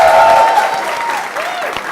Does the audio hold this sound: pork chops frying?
no